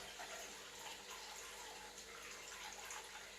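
Tap water runs steadily over seamoss in a container to soak it, a continuous faint gushing stream with no talk.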